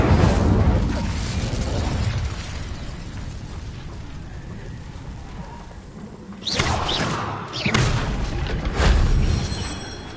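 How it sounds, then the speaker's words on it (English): Fiery Incendio spell effects in a wizard video game: a rumbling roar fading over several seconds, then a few sharp bursting whooshes near the end, loud and close with no talk. "Incendio."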